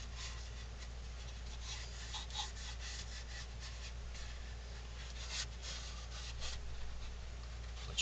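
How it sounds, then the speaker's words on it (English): Steady abrasive rubbing of a palm sander on wood, a continuous gritty hiss with slight surges, close and alone without speech. "I used my palm sander to give it another good sanding"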